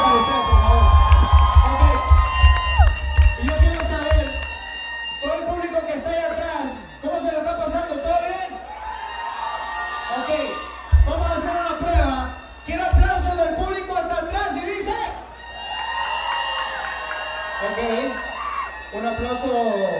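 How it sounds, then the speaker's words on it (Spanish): A live audience at an entertainment show cheers and shouts in waves. Loud whoops and children's yells rise and fall throughout, mixed with an ongoing voice over the crowd noise. "Aplauso para usted, por favor."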